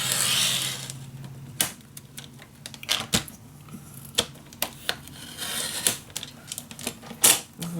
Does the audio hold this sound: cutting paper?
yes